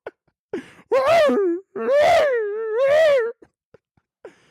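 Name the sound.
dog barking and howling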